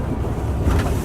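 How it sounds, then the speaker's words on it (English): The engine brake on a 2009 Volvo 630 truck with a D16 engine and iShift transmission gives a low, steady rumbling drone from inside the cab, swelling slightly toward the end over wind and road noise. "There's our engine brake coming on."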